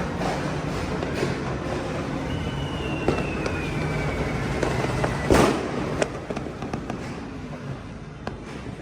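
New Year's fireworks and firecrackers boom and crackle outside in a dense, continuous barrage, with one sharp close blast standing out among the distant pops and a thin whistle trailing through.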